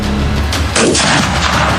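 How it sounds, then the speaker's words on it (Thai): Gunfire in a war audio drama breaks out as a sharp burst partway through, then a sustained crackling volley rolls on over a low rumbling background, loud and close, with no talk. "เสียงปืนจากแนวซ้ายคำรามขึ้น"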